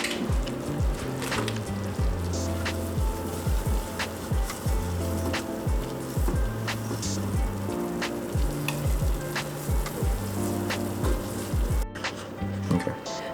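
A butter and flour roux sizzles steadily in a pan as it browns, with a continuous frying crackle and regular stirring strokes, no voices.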